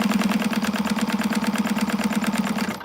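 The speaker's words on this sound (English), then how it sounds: "So I'm just basting this on right now at 1/8 of an inch, of course, as a baste." A sewing machine bastes a quilting seam at an eighth-inch allowance, running a fast, even mechanical chatter that stays close and steady before stopping abruptly. No voices are heard.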